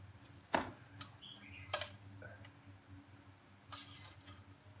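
A titanium frying pan from a bikepacking cook set is handled, with a few light metallic clinks and taps spread over a soft background.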